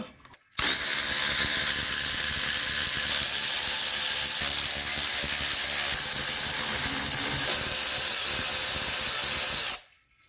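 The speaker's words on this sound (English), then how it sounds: "We got 13 millimeter bolts around here, so we'll go ahead and get those out." Power tool or ratchet wrench removing 13 mm bolts from the transmission pan of a 1981 Mercedes 300SD, a loud continuous close whirring buzz lasting about nine seconds before stopping abruptly.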